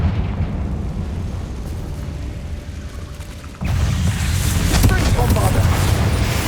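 A Confringo fire spell in Hogwarts Legacy, cast inside the Feltcroft Catacomb, erupts as a sudden loud blast midway through and is followed by sustained crackling rumble after a quieter stretch.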